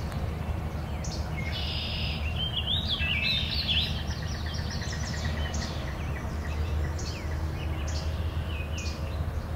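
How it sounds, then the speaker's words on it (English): A cedar waxwing gives thin, high, lisping calls in short repeated series, fairly faint against a steady outdoor background hiss, with other birds chirping nearby. "Cedar waxwing you just picked up."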